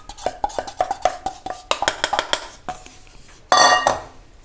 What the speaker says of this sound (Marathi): आणि आता आपण ह्याच्यात ही जी पावडर आहे आपण अगोदर केलेली ती ओतणार आहोत।